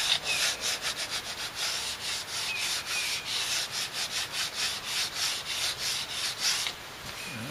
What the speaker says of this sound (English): Guess it needed a little bit of sanding here.